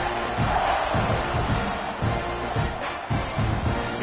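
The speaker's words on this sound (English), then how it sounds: "this crowd is buzzing after that last score" Stadium crowd at a football game, buzzing after a score before a kickoff; a steady, dense wash of many voices with rhythmic swells and chanting-like pulses, loud and continuous with no single voice standing out.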